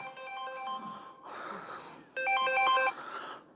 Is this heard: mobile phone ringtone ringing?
yes